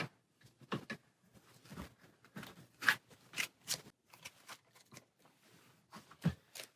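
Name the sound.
shuffling a deck of cards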